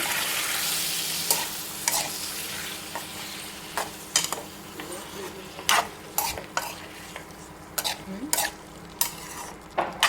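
Seven tomatoes softening in a pan for paneer butter masala, frying with a steady sizzle under a run of sharp spoon scrapes and stirring knocks, loud and close, with no voices.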